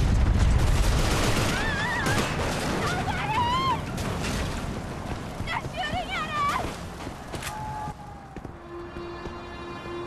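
Gunfire from the video game Inversion, dense rattling bursts of shots and impacts for several seconds, mixed with shouting voices and music tones, thinning toward the end.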